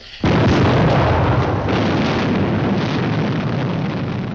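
A bomb goes off in a 1950s dark comedy film, one sudden loud blast that erupts after a brief quiet and then rolls on as a long, dense rumble with crackling debris, with no voices.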